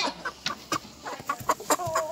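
A big rooster clucking up close on a farm, a run of short, quick, throaty clucks in an uneven rhythm, loud and alone without talk.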